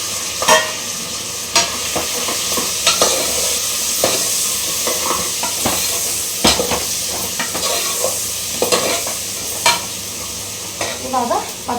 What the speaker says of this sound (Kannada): ಕೇಳಿಸ್ತಾ ಇದೆಯಲ್ಲ, ಇವಾಗ ಅದು ಫ್ರೈ ಆಗಿದೆ. ಅದಕ್ಕೆ ಇಟ್ಕೊಂಡಿರುವಂಥ ಇನ್ನೊಂದು ಸ್ವಲ್ಪ ಈರುಳ್ಳಿನ ಹಾಕೊಂಡು ಫ್ರೈ ಮಾಡ್ಕೊಳ್ಳೋಣ.